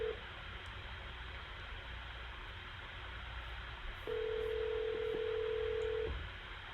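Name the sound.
phone call dropping, telephone line tones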